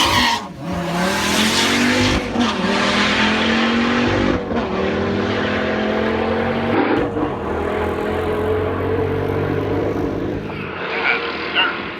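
A rear-wheel drive street car, the White Snake Agni Stryker on 19-inch wheels, roars past at speed, its engine note loud and continuous with rising pitch sweeps as it pulls through the gears.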